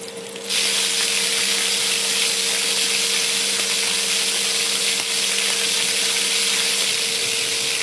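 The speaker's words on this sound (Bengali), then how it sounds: "এর মধ্যে চিকেনগুলোকে ভেজে নিতে হবে।" Chicken pieces fry in hot oil in a kadai for a Bengali coconut chicken dish, making a loud, steady sizzle that starts abruptly and holds without a break. No one speaks.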